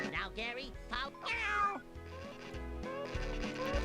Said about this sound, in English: Seems like the meow from Gary is louder than anything.